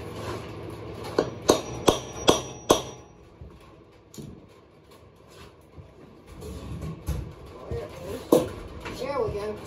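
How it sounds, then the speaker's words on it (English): Metal hammer blows driving bearings onto a go-kart axle, with several sharp, evenly spaced strikes early on, then quieter clanks and handling noise with a voice talking nearby. "Hammer on the bearings, you can either get a socket and do it"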